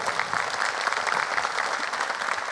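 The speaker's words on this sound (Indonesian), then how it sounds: "Boleh deh tepuk tangan sekali lagi untuk Popon." Steady, dense applause from a stand-up comedy crowd, continuous and fairly loud throughout, with no voices standing out.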